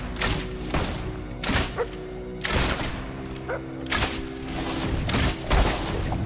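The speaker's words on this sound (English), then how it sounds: "we gotta get rid of these guys that are shooting at me." Enemy gunfire in the Fable 2 video game comes as repeated heavy booming volleys and thuds, loud and close, with brief gaps between bursts.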